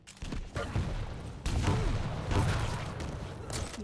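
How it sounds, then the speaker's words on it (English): Close-range rocket launcher fight in the Quake Champions video game: repeated loud rocket blasts and explosions in quick succession, one big burst after another over a rumbling game backdrop. "another close range rocket fight"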